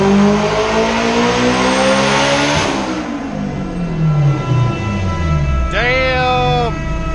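A turbocharged Acura RSX revs hard on a dyno, its engine pitch climbing steadily, dropping at a shift, then rising again loud and close before a brief sharp squeal near the end.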